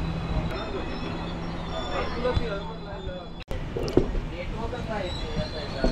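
Steady rumbling rail noise of a moving train on the Konkan Railway near Chiplun, continuous throughout, with people talking over it.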